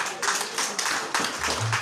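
A church congregation clapping for Jesus during a sermon: a dense, steady wash of many hands applauding together in a hall, with a low voice murmuring briefly near the end.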